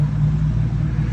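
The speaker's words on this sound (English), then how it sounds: "I apologize for the traffic against the road." Road traffic passes outdoors in Pigeon Forge, Tennessee, a continuous low engine rumble from a nearby vehicle, fairly loud and steady with no talking.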